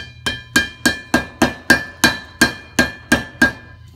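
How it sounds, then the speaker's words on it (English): Soft-face hammer tapping a part into a Toyota Land Cruiser HZJ/VDJ 76-79 swivel hub during a rebuild: eleven evenly spaced, close, sharp knocks, each ringing briefly, alone with no talk. "Now we'll just get this started with the soft face hammer."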